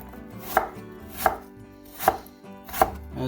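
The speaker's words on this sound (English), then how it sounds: "As you're chopping your apples" A kitchen knife chops apples into thin slices on a cutting board, giving four crisp, evenly spaced chops about 0.7 seconds apart, close and clear with no talk.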